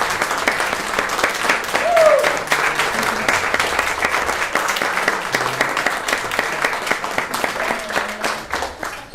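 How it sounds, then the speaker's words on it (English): Parents, guardians and family members of school Do the Right Thing award winners are applauded by an audience, with sustained, even clapping from a crowd that continues steadily throughout, at moderate loudness. "Would the parents, guardians, and family members of our Do the Right Thing winners please stand so we can applaud you?"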